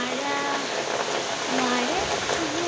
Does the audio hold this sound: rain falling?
yes